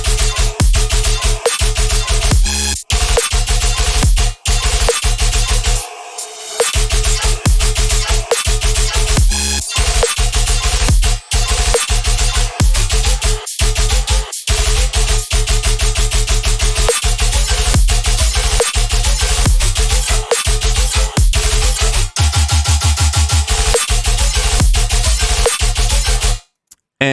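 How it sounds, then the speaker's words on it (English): An electronic tearout music loop pounds continuously at high volume, with heavy bass hits, chopped stutters and brief gaps of silence in a busy, repeating pattern. "I'm going to show you how to make this Tearout loop"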